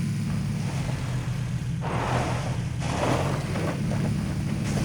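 A steady, low motorcycle engine drone in the video game PUBG: Battlegrounds runs throughout, with breathy wind-like surges rising and falling over it.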